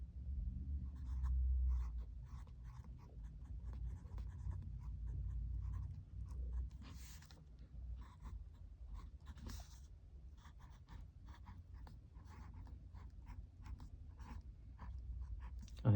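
A pen scratches out the words of a sigil mantra by hand in a series of faint, irregular strokes, close by over a low steady hum.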